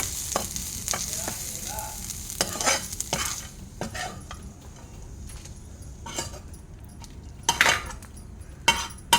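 Onion and coriander leaves fry in oil for a chicken masala while a metal spoon stirs them, a constant sizzle broken by repeated close scraping and clinking against the pan, with no speech.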